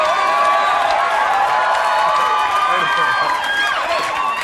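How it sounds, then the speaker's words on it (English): Studio audience of a comedy talk show clapping and cheering, a steady, fairly loud patter of applause under someone talking. "Why are only guys clapping?"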